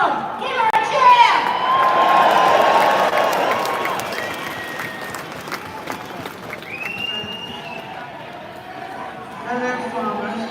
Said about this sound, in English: give her a loud cheer, everyone, please